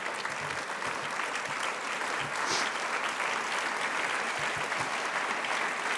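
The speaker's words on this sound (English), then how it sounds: "you deserve a huge round of applause" Sustained applause from a large crowd, steady and loud throughout, with dense overlapping claps and no break.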